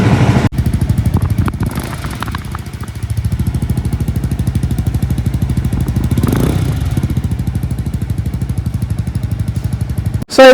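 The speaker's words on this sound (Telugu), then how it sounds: "ఇప్పుడు ఎగ్జాస్ట్ సౌండ్ అయితే వినండి అసలు ఎలా వస్తుంది అనేది" A newly launched Jawa 350 motorcycle with dual exhausts, one on each side, idles with a loud, close, rapid thumping beat that swells briefly mid-way and then cuts off abruptly at the end.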